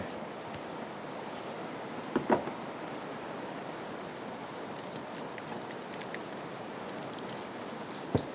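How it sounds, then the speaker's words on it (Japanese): Heavy rain pours steadily, making a dense, constant hiss with a few louder drips and knocks, heard alone without talk. "めっちゃ降ってますね、"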